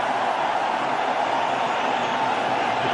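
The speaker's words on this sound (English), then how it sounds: "The crowd are pretty happy though for Pakistan this one." A cricket stadium crowd cheers for Pakistan during a one-day international against South Africa, a dense continuous roar that holds steady and loud with no distinct voices standing out.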